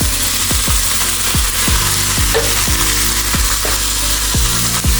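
Chayote pieces sizzle loudly as they fry in a pan with potatoes, a steady dense crackle broken by regular scraping strokes of a spatula stirring the vegetables.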